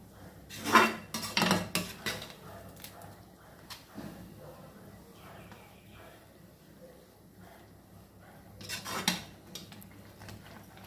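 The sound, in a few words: stirring carrot halwa in a pot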